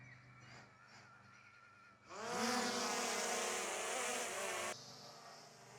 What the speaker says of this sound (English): So let's get the drone up in the air.